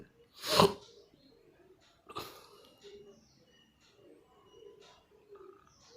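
A cow at a cattle market gives a loud, close sneeze, followed by a fainter second sneeze about a second and a half later, with low market noise underneath.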